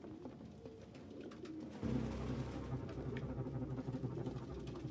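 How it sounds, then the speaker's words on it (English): Pigeons coo in the Detroit: Become Human video game, a low murmuring coo running steadily through a game ambience that grows fuller and louder partway through. "No humans could live with these fucking pigeons."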